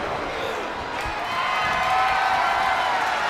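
A wrestling-arena crowd in the WWE 2K24 video game during an Undertaker versus Venom match roars and cheers steadily, a dense wash of crowd noise that swells slightly partway through.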